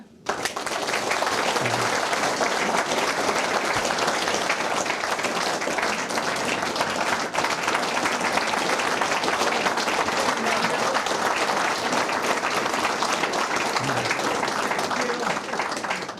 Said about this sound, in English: We'd like to give you a good, rousing round of applause for our guest of honour, the father of Goodwood.